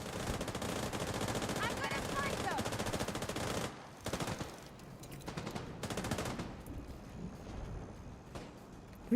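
Rapid automatic gunfire from The Division video game, dense bursts of shots crackling loudly for several seconds, then sparser scattered volleys with short gaps.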